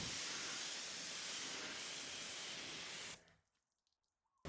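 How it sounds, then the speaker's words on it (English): A pressure washer hisses out a steady, loud spray of detailing product across a car for about three seconds, then cuts off abruptly into near silence, with a brief burst at the very end. "Start with the pressure washer and work your way up to the top to move that product around and get good coverage."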